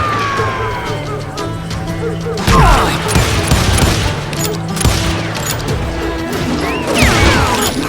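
Dense gunfire in the Western video game Call of Juarez Gunslinger, rapid overlapping shots and impacts over a loud, busy game soundscape with music and effects.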